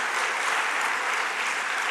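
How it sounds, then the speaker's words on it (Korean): A church congregation at a Korean Sunday service applauds the choir with dense, even clapping that holds steady and close throughout, with no talk over it. "우리 박수 한번, 감사 박수 한번"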